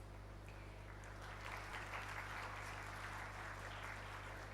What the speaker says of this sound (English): It's amazing how many times you get, applause when you say graduates.